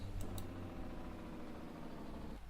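A truck with a manual shifter in the video game Farming Simulator 22 gives a low, steady engine rumble, idling quietly and evenly with no voices.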